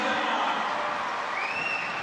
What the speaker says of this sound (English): You heard the crowd, and there's only one reason why they're roaring like that.